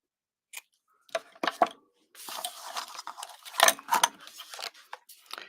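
Scissors snipping the tails of a craft piece: a few separate close cuts, followed by a longer rustling crunch of paper-like material and more snips, fairly quiet, with no talking.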